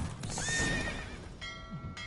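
Horse in The Witcher 3 video game lets out a loud, close whinny with a rising, wavering pitch, followed by a brief clatter of hooves, with no talk over it.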